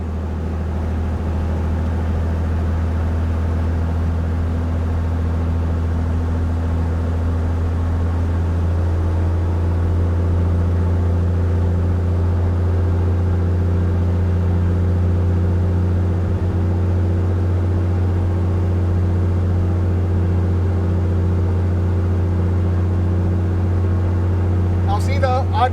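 Propeller aircraft engine during a ground run-up with brakes set, a loud steady drone whose tone shifts upward partway through as RPM rises, continuous throughout.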